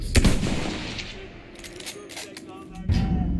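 Gunfire in the Battlefield 1 video game comes as several sharp, sudden shots with echoing tails, some louder and some more distant, spread across a noisy battlefield background.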